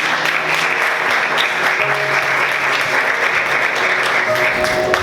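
A church congregation applauds continuously, a dense and steady wash of clapping from many hands that fills the whole space without pause.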